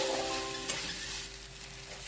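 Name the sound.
turmeric, red chili powder and green chili roasting in a pan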